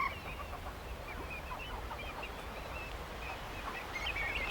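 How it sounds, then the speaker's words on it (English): Whooper swans call on a fresh marsh, a loose chorus of honking and bugling notes carrying at moderate distance over a low, steady ambient background. "a group of hooper swans on the fresh marsh"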